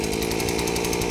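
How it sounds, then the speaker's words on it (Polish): Chainsaw attachment on a HECHT multifunction garden tool running steadily, a loud, close, continuous buzzing engine drone that sounds stiff and warming up, with no talking. "Tak, piła się rozgrzewa."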